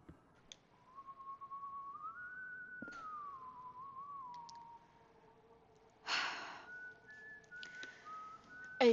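A lone whistled tune from a man in the video game White Day rises and falls, fairly faint, followed by a breathy burst and a few short whistled notes in a quiet space.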